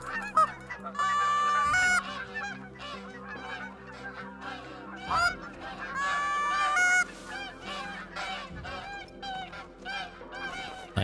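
A goose honks repeatedly in a hunting video game, loud nasal calls in bursts of several honks separated by brief pauses, close and clear with no talking.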